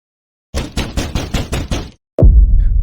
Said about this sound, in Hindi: अचानक आधी रात के समय दरवाजे पर दस्तक हुई।